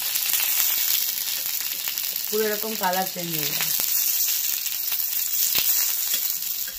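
Egg masala fries on a tawa with a continuous close sizzle and crackle, and a person talks briefly over it.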